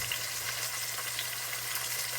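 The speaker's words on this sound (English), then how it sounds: "Now we're gonna brown each side." Roast meat browns in a frying pan with a steady, even sizzle, close and moderately quiet, with no talking.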